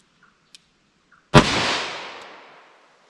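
A single loud gunshot at an outdoor range, a 10mm or .357 Magnum round loaded with plastic bullets, cracking sharply and then trailing off in a long echoing decay after a few faint clicks.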